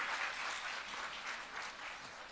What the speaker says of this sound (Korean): 미리 박수 한번 쳐주세요.